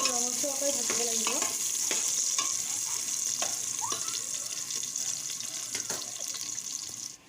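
Chopped onions sizzle steadily in oil in a pressure cooker for chicken biryani, with occasional spoon scrapes and knocks, and a soft watery hiss running underneath before it cuts off.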